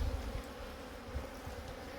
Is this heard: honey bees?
yes